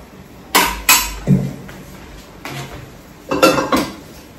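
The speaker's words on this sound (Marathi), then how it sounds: "इथे मी आता ना मस्त कमी गॅस केला आणि त्याच्यावर मस्त भाजून घेणार" Coriander seeds dry-roast in a metal pan over low gas, and stirring sends out a few sharp metallic clinks and rattles in separate short bursts between quiet pauses.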